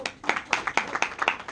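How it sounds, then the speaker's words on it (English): A small meeting audience claps in a steady rhythm, with evenly spaced hand claps at a moderate level that sound like a modest round of applause in a room. "You give him a big round of"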